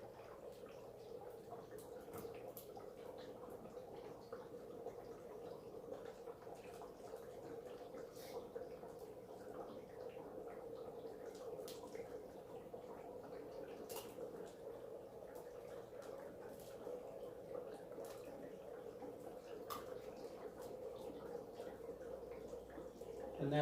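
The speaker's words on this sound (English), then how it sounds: "Still depositing water into the reaction chamber." A steady stream of water pours into a CO2 fog generator's reaction chamber, bubbling continuously, with faint drips and fizzing throughout, fairly quiet and unbroken.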